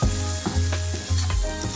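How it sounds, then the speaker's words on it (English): Shredded kunafa pastry being stirred with condensed milk in a hot pan gives a steady close sizzle with soft scraping and stirring strokes throughout, and no talking. "Add 1 tablespoon condensed milk. Again, mix evenly."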